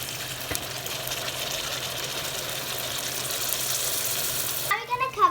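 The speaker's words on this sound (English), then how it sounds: "Now you can see that our meat is sizzling." Chicken pieces sear in a pot for curry, producing a loud, continuous sizzle that fills the clip before a brief clatter and a voice at the very end.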